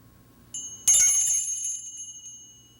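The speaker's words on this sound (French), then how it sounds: "Ma petite cloche." A small bell is struck once, nearby, giving a bright, clear ring that slowly fades in near silence.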